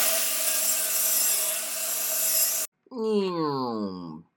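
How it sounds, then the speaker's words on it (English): A Sawzall reciprocating saw cuts through a metal fat bob mount on a motorcycle build with a loud, steady buzz, then stops abruptly, and someone speaks briefly afterward. "getting to a point where I can cut it out with the Sawzall"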